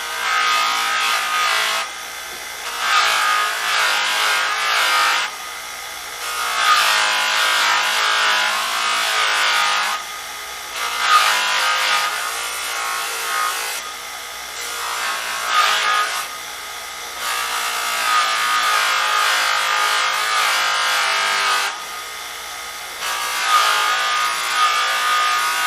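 Buffing wheel working brass compound over a long rifle butt plate, a steady abrasive rubbing whir that swells and eases in repeated passes, close and fairly loud with no voices.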